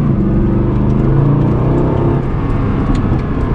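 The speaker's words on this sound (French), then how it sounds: "Le bon vieux son du V8 qu'on aime. 6 litres 3 AMG" A Mercedes SLS AMG Black Series with its 6.3-litre V8 roars steadily from up close, a deep continuous engine drone with slight rising and falling revs and no talking.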